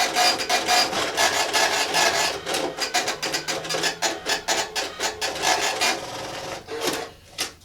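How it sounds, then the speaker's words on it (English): An Epson TM-U220 impact receipt printer and a thermal printer run side by side, producing a loud, close, rapid rasping chatter of dot-matrix bursts with brief pauses and paper-feed whirs, no voices. "So the impact printer prints much slower than the very speedy thermal printer."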